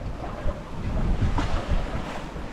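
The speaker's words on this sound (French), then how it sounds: "La mer est toujours assez agitée." Rough, choppy sea and gusting westerly wind after a passing front on a solo North Atlantic crossing, a continuous close roar of wind and surf with swelling gusts.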